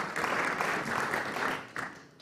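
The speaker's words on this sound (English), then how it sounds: "It's a big round of applause for you," Audience applause at a swimming association's awards evening: a short, dense burst of many hands clapping at moderate volume that fades toward the end.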